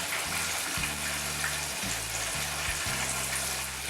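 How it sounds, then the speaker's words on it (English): Biscuits deep-frying in hot oil make a steady, loud, dense sizzle with no pause, while a low droning tone steps on and off underneath. "We're gonna go ahead and fry these things till they get golden brown"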